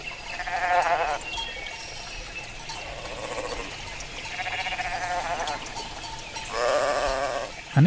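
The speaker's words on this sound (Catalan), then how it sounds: "Anem tots dos a pasturar el ramat, un centenar d'ovelles." A flock of about a hundred sheep is driven out to graze on an early spring morning, with repeated bleats from several animals overlapping in bursts across a steady outdoor background.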